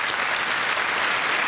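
Dense, steady applause from a studio audience on the KBC quiz show set, loud and continuous with no pauses or talk.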